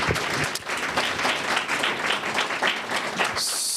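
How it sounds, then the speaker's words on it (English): An audience at a city council candidate forum in Santa Fe applauds the candidates, a dense, steady round of clapping lasting throughout, with a faint voice near the end. "A round of applause for all the candidates."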